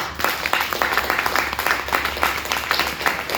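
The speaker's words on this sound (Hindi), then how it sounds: "उनके लिए एक जबरदस्त ताली चाहिए" Audience applause at an open seminar in Batote, a dense, steady patter of many hands clapping at moderate volume for the whole stretch, with no clear talk over it.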